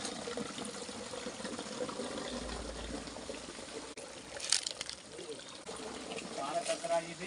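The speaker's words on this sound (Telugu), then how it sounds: "ఈ రాయి దారి వాటర్ వస్తుంది" Water flowing along a rock through a small channel carrying water to hillside paddy fields, a continuous trickling rush with brief splashing bursts midway, fairly faint and steady.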